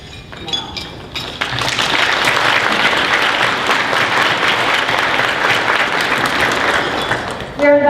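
A large evening audience at a school choice debate applauds the committee, dense clapping that swells after a few opening claps and holds steady for several seconds before cutting off.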